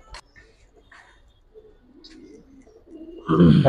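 Pigeons in a large collection of Giribaz and colored pigeons, a few soft low coos and light rustles, followed by a louder burst at the end.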